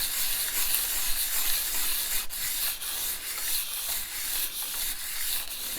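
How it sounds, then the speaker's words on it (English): A signet ring is rubbed flat against sandpaper in a steady back-and-forth scrape, a continuous gritty hiss with a few sharper strokes, close up and alone. "doing it flat on my sandpaper like this"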